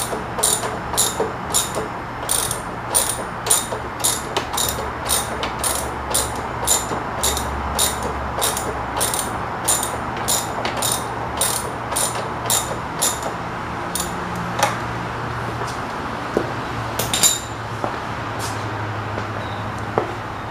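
A 1/2 inch socket ratchet tightens a bolt on a car wind deflector mount, clicking in a quick even rhythm for about twelve seconds and then in a few sparse clicks over a low background hum.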